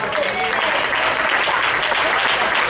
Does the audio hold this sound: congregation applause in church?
yes